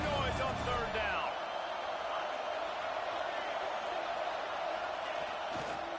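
Stadium crowd roaring steadily at a college football game between Auburn and its opponent, a dense, loud wash of fan noise on third down that stays constant throughout, with a few brief sharper shouts rising above it.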